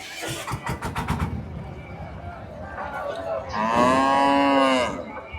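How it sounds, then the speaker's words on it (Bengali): Cattle mooing at Bera cattle market in Pabna, Bangladesh; one loud, drawn-out low moo rises near the end, after busy crowd noise and voices. "দেখি এখানে কি কি ধরনের গরু উঠেছে"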